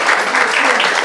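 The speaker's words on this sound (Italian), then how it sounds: "Un applauso." Loud, steady applause from an audience at a sparkling-wine awards event in Sicily, sustained clapping through the whole short burst.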